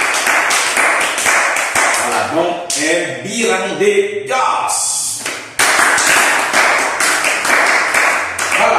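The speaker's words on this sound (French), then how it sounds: "Applaudissons-nous." A room full of people claps loudly and steadily, a dense burst of applause that pauses while someone speaks and then resumes strongly.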